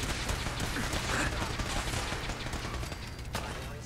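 Heavy gunfire from big guns in Fallout 4, a dense continuous rattle of rapid shots that fades slightly toward the end, with no talk.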